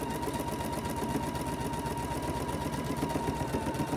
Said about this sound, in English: we're just going to sew straight down those sides